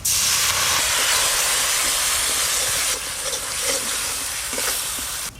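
Chopped fried onions with cumin paste, turmeric, chilli and coriander powder hiss loudly in a pan as a little water is added, giving a strong, steady steamy sizzle that eases slightly toward the end.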